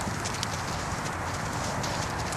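Horse hooves walking on the ground during long lining and ground driving of a young horse, a steady muffled clip-clop under dense broadband noise throughout, with no voices.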